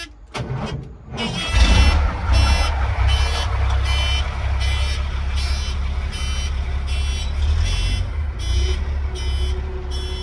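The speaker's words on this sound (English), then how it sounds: "the alarm should go off when it gets to be about 60 pounds" A dump truck's low air pressure alarm beeps in steady, evenly spaced pulses over a loud idling engine rumble, close by.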